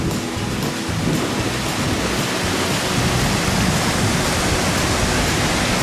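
Water gushes loudly and continuously from the Cien Caños springs, swollen after recent rain, a steady broadband roar with no breaks and no voices.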